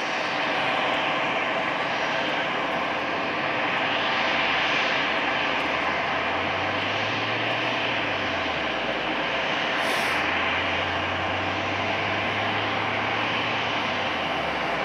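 An Edelweiss Airbus A320 takes off from runway 05 at Madeira Airport with a steady, loud jet roar and a slow rising and falling engine whine, no voices.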